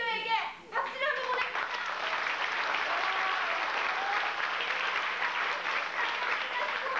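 Sustained audience applause fills a hall after a call to clap for a negotiating representative at a gathering, steady and dense throughout, with a brief voice at the very start.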